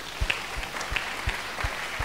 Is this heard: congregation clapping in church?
yes